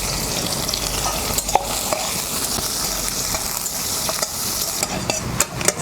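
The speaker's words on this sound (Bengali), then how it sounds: "গরম তেলে দিয়ে দিচ্ছি কালো জিরে ফোড়ন, শুকনো লঙ্কা দিয়ে দিচ্ছি কিছু রসুন কুচি" Black cumin seeds and dry red chillies sizzle loudly in hot oil in a pan, a steady close frying hiss with small crackles and pops throughout, no voices.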